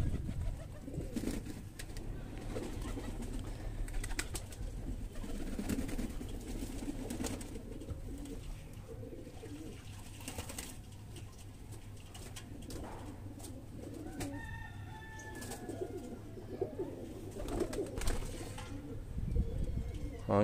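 Highflyer pigeons coo softly in low, repeated murmurs, faint and close, with occasional brief chirps over a quiet background.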